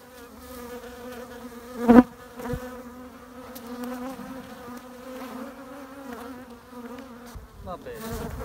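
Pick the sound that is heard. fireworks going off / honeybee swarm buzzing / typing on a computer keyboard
honeybee swarm buzzing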